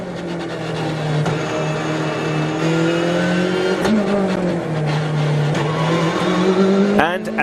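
Volkswagen rally car with slick tyres racing along a damp mountain road, its engine droning loud and steady with shifting pitch, a sharp rise near the end.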